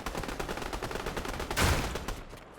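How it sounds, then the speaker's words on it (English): Video game gunfire crackles in fast, dense bursts that run into a louder, sharper blast near the end, then drop off abruptly. It sounds moderately near and comes without speech. "Holy gunshot! Stop shooting!"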